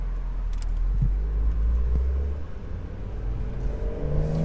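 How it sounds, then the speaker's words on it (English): A 2020 Porsche 911 Carrera S Cabriolet with a manual gearbox and its active exhaust valves open roars as it accelerates, a deep, steady rumble rising in pitch as the engine revs up, close and loud. "it has the active valves, exhaust valves open, so it's going to make better noise when I get on the gas"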